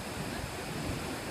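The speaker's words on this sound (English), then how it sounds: "You can tell how tall these waves are." Ocean waves break against the Morro Bay jetty in a steady, broad wash of surf noise, fairly soft and continuous, with no voices.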